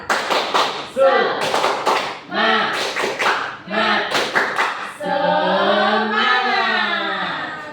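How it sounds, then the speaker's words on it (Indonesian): A second-grade class in an Indonesian primary school claps a quick rhythmic spirit clap, sharp bursts in a patterned beat, then the children break into a loud sustained chant together. "Kita tepuk semangat dulu ya. Tepuk semangat."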